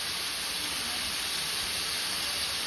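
Onion and tomato fry in a pan for chicken thokku, giving a steady broad sizzling hiss that stays even and fairly soft for the whole stretch, with no talking over it.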